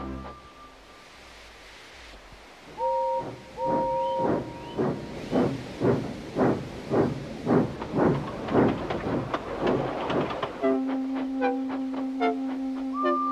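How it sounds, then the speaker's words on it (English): A steam engine chuffs in a rhythmic series of loud hissing bursts, with whistle tones sounding at the start and a sustained whistle near the end. "Gordon came clanking past, hissing rudely."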